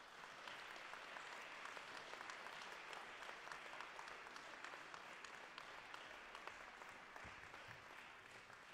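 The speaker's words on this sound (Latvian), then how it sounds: "Lūdzu, vētrains aplausu kobildē." An audience at a volunteer-of-the-year award ceremony in Latvia applauds with steady, sustained clapping from many hands, even and continuous throughout, heard from a distance at fairly low level.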